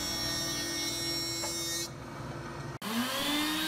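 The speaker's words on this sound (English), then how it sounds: "So I'm planing down some quilted maple for the top and the bottom." A planer shaves quilted maple boards for a box top and bottom, a steady high whine and hiss that cuts off near the end, followed by a brief thump and a quieter motor hum.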